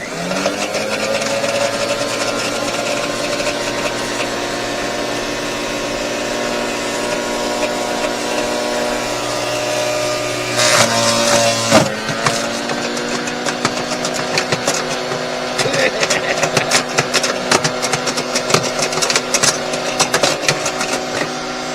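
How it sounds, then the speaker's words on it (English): A new wood chipper runs loud and steady, its motor droning with a harsh, buzzy tone, then bites into a TV licence letter about halfway through, turning rougher with crackling shredding bursts. "I've got a new wood chipper."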